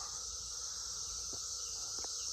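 A Brood XIV cicada gives a steady high buzzing drone outdoors, constant and moderately near, with a few faint chirps and scuffs underneath.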